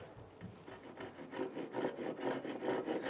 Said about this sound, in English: Now I'm going to cut right to my line.